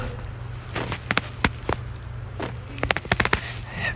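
Desert Eagle pistol shots in a shooting video game, several sharp cracks spread across the clip, some single and some in quick bursts, loud and close over steady background game noise.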